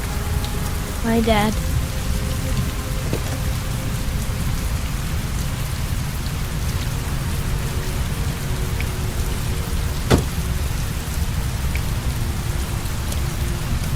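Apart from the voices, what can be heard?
heavy rain falling in video game Heavy Rain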